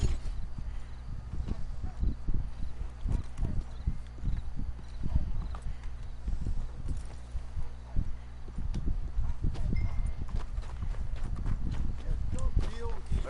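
Horse hooves clip-clop steadily in Red Dead Redemption 2, a quick, close rhythm of hoofbeats under voices talking.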